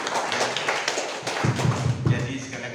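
Audience at a public declaration event in Indonesia applauds a former high school teacher, Metodius Kia: dense, close clapping with some thumping taps, steady across the clip and growing fuller in the second half.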